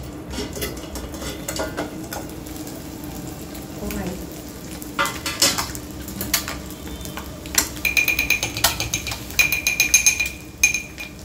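Masala for chicken roasting in a pan, a steady sizzle broken by stirring scrapes and clinks of a utensil against the metal, growing busier and louder toward the end with a faint high tone.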